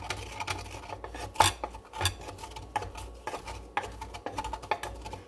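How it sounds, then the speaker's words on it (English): Repeated gritty grinding and scraping strokes, like ingredients being crushed with coarse salt in a mortar, irregular rhythm, close and fairly quiet. "I'm going to go ahead and crush these with the salt"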